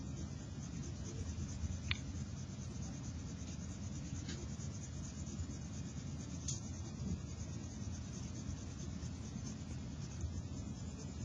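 A graphite pencil lays a light shading layer on paper, making a faint, continuous soft scratching with a few small ticks, close and quiet, with no voices.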